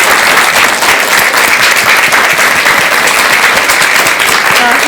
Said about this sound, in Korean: 법현 스님께 큰 박수 한번 부탁드리겠습니다